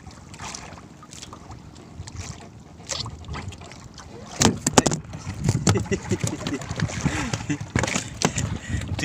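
Boats moving on water outdoors in the morning, with wind buffeting the microphone, splashing and engine noise, and people talking in the background.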